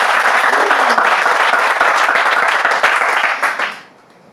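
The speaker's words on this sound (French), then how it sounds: "On applaudit très fort Sarah." Studio audience at a French Bible quiz show applauding loudly and steadily, dense clapping that holds for about three and a half seconds before quickly dying away.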